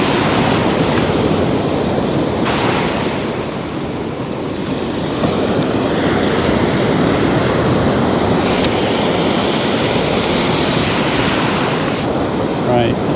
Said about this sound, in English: There's some force in those waves.